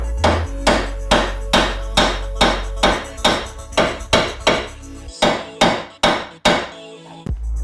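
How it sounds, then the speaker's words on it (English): A hammer strikes steel repeatedly to knock a shock absorber out of a Ford Focus Mk1 car hub. There are about fifteen loud, ringing metallic blows at a steady rhythm, close and alone with no talk. "Of course, a hammer always helps."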